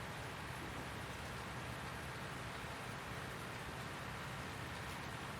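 Steady rain falls in the video game Farming Simulator 19 on the Ravenport map, an even, quiet hiss of raindrops with no breaks.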